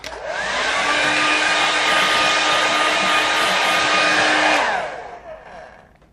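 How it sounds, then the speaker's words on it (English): A hair dryer blowing on a watercolour painting, a loud steady whooshing roar with a faint motor whine that runs for several seconds, then winds down and fades as it is switched off. "now let's make sure that's dry first"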